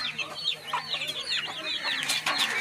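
Village hen with her seven chicks, close busy clucking from the hen mixed with rapid high cheeping from the chicks, continuous and lively.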